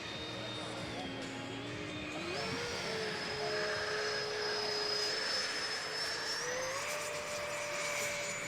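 Freewing Zeus EDF RC sport jet in flight on a windy day, its electric ducted fan giving a steady, loud whine that rises and shifts in pitch as it comes around and rolls.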